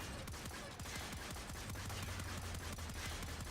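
Rapid automatic hip fire from the Arca Scisco in Warframe, a dense continuous stream of repeated shots with steady rhythm, loud and up close with game background under it.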